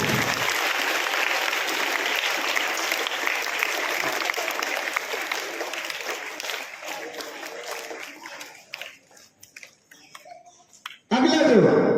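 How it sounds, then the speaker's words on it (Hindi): An audience applauds at a school prize ceremony, sustained dense clapping that thins out and fades to scattered claps before a loud burst of sound returns at the very end. "जोरदार ताली एक बार।"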